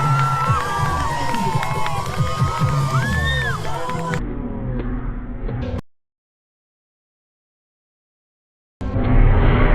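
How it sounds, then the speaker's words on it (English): A crowd at Blackpool cheering and shouting, loud whoops and children's cries for a few seconds before cutting out to silence, then the crowd noise returns abruptly at the end. "How about some cheering? Let me hear you."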